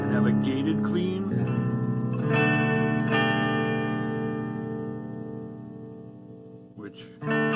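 A guitar played clean through a Donner White Tape analog delay pedal with a gate rings out in sustained chords, the repeats decaying smoothly before a new strum cuts in sharply near the end.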